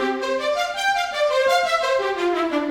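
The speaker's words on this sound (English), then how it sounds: "So there's a spiccato, which is a bouncing of the bow on the string patch," A sampled spiccato string patch, bows bouncing on the strings, plays a dense ensemble of short, rapidly repeated notes with shifting pitches. The sound is continuous and fairly loud, with no voices over it.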